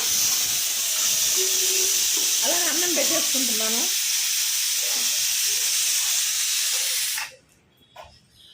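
Steam hissing loudly and continuously from a pot of rice cooking on a husk-fired stove after dal, with a person speaking briefly over it before the hiss cuts off abruptly near the end.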